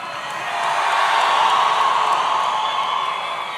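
At a SkillsUSA national conference opening ceremony, a large crowd screams and cheers in a sustained, loud wash of voices that swells and holds steady with no single voice standing out.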